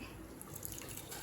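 Water pours and splashes into a cooking pot being readied for cauliflower, a soft continuous trickle with a few brighter drips and splashes, quiet and close.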